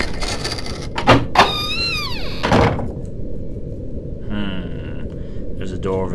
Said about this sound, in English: I'll make my way to the door then.